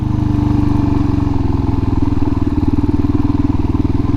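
A Suzuki DRZ motorcycle engine revs hard as the clutch is dropped, a loud, close, steady rapid-firing exhaust pulse that keeps pulling for several seconds with no talking.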